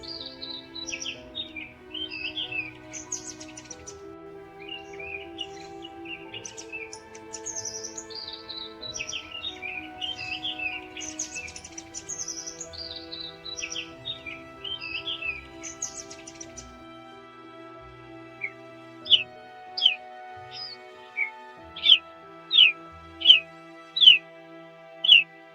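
A bird chirps beside a riverbank, first as soft scattered tweets under gentle background music, then as a run of sharp, evenly spaced, louder calls near the end.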